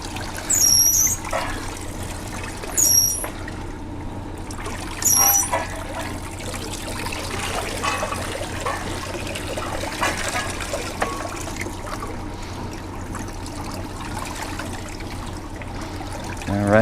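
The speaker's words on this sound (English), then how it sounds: "This cold water feels really good. It's splashing on my legs" Cold water trickles and splashes steadily from a Maytag wringer washer, a continuous close liquid wash with a few brighter spatters standing out near the start.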